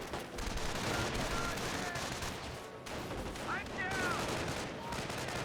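Gunfire crackles around a contested victory point in the World War II strategy game Company of Heroes, a dense continuous battle din of rifle and machine-gun fire with no clear gaps, under faint voices.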